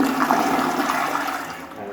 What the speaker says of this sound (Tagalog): I-flush natin yan mga coworkers.